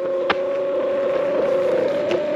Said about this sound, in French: On a le bruit typique du Altron, hein, de la Mini, le bruit de la moteur de la Mini